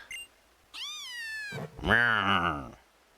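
A person voices a cat's meow, a short rising-falling call followed by a longer, louder drawn-out meow, set among other playful animal-noise imitations during a Pokémon Ultra Sun game session.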